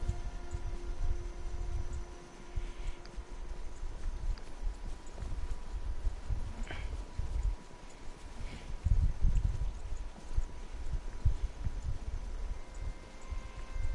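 A horse's hooves clip-clopping in an irregular walking rhythm, with moderate, fairly close thuds that grow heavier partway through.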